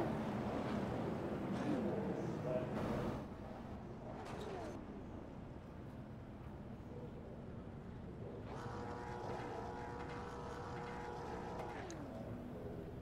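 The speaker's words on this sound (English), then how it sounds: "Sounds a little bit like he might be trying to blow out that engine" A race car engine revs hard in the iRacing simulation game at a speedway, a sustained engine whine and drone that climbs in pitch near the end, with a commentator's voice heard over it early on.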